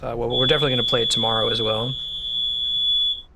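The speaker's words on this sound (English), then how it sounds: "The landlords are testing the fire alarm today." A fire alarm under test by the landlord gives a steady high electronic beep that carries through the whole stretch, first under someone talking and then almost alone after he stops.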